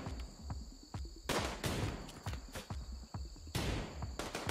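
Sharp gunshots in the video game Rimworld crack in a few quick bursts against a low, steady ambient hum, each report fairly faint and short.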